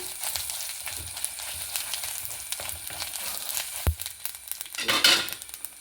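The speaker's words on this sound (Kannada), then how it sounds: "ಜೀರಿಗೆ ಹಾಕಂತ ಇದ್ದೆ ಒಂಚೂರು ಹುರ್ಕೊಂಡು" Cumin seeds fry in a pan of oil with chilli and neem leaves, a close, crackling sizzle with a few sharp pops and a brief stirring scrape near the end.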